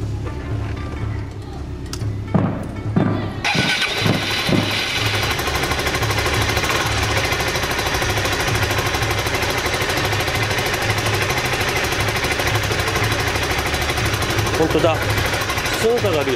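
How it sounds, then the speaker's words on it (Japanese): A used Suzuki Skywave 400 scooter cranks with a few sharp turnovers, then catches and settles into a steady, loud, rhythmic idle that chugs on evenly to the end. "エンジンをかけてみましょう"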